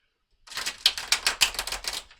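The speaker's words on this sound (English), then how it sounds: "Let's give these cards a lovely shuffle." Tarot cards are shuffled for a reading, a quick burst of crisp, close papery flicks and snaps in a tight rhythm lasting under two seconds.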